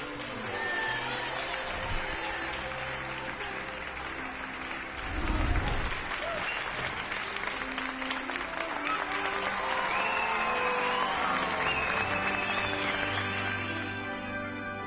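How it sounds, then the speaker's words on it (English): A crowd applauds and cheers in the video game Hogwarts Legacy, steady clapping and cheering over game music, with a louder low thump midway. "Everybody's cheering for me."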